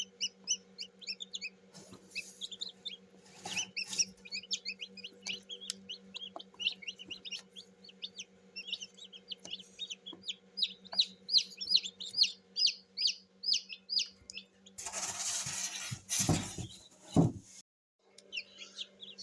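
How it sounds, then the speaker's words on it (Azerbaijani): Newly hatched chicks peep in rapid high chirps close by over a low steady hum, the cheeping growing denser before a burst of louder rustling near the end. "Dostlar, o çıxacaq dediyim cücə də çıxdı."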